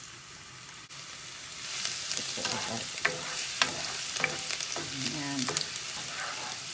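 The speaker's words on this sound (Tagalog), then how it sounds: "Mainit na po ang kawali. Maglalagay po ako ng 1/3 cup na oil. Ilagay ko na po agad ang bawang." Garlic drops into a third of a cup of hot oil in a heated pan and erupts into a loud, crackling sizzle that builds midway, with spatula scrapes and a brief spoken word.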